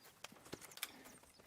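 Horse hooves clip-clop in a video game, a handful of light, sparse hoofbeats spread across a short stretch, soft and fairly close over a faint background.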